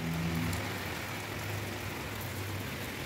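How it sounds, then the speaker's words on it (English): Steady rain falls continuously, a dense even hiss of drops on surfaces with no voices. "It's raining, it's so cool and so sweet for body."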